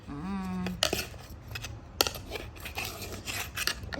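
A utensil stirs mango curry in a pot, giving repeated metallic clinks and scrapes against the pot in an uneven rhythm, close and fairly loud.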